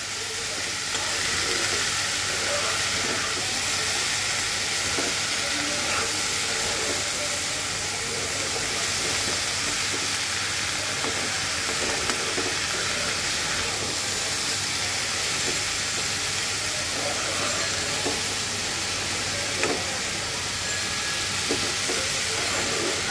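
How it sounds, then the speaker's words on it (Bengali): Chopped bottle gourd fries in a pan while being stirred, giving a steady, dense sizzling hiss that runs unbroken throughout, with faint scraping underneath and no talking. "আমি এখন এবার নেড়ে দেব।"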